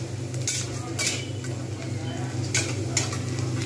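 Onions frying lightly in a pan for palak paneer, with a steady low sizzle and a few sharp scraping stirs of a spoon against the pan.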